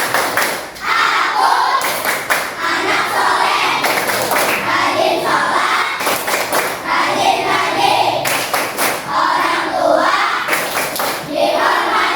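Children in a school religious-education class perform the tepuk anak soleh chant, with sharp rhythmic group clapping in patterned bursts alongside their chanted voices, loud and close.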